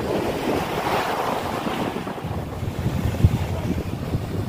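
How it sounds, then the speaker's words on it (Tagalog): Strong wind buffets the microphone while waves roll and break on Al Mojerma Beach, a steady, rushing roar of surf and gusts with a brief thump, and no voices. "Lakas ng hangin."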